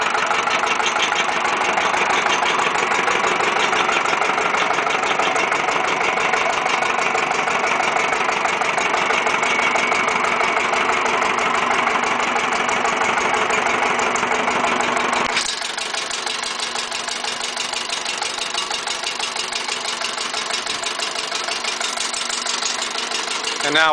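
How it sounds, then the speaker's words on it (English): A homemade Lister CS Listeroid single-cylinder diesel generator engine idles with a loud, steady, rhythmic thumping run that carries on throughout. The tone shifts and softens somewhat partway through. "And now I'll go ahead and shut the engine down."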